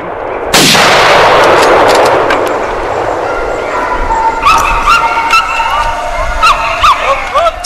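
A sharp carbine shot rings out during a wild boar hunt, with its echo trailing off, and then hunting dogs yip and bark in short, excited bursts at a moderate distance.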